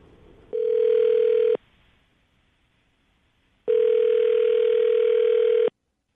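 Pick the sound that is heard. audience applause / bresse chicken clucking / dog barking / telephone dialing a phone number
telephone dialing a phone number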